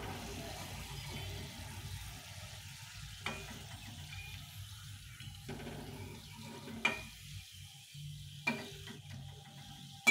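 Peanuts frying and being stirred in a pan, a soft steady sizzle with occasional sharper scrapes and clicks of a utensil against the pan, moderately quiet and close, no talking.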